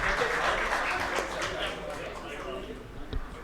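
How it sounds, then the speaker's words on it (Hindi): Audience applause at a Hindi public ceremony, a broad, sustained clapping from a large crowd that continues evenly throughout, with a thud near the end. "श्री पंकज गोयल जी के लिए भी तालियां बजनी चाहिए।"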